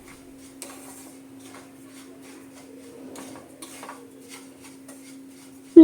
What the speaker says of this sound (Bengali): আবারও বেশ কিছুক্ষণ ধরে এটা কিন্তু আমি খুব ভালো করে নেড়ে চেড়ে ভেজে নিচ্ছি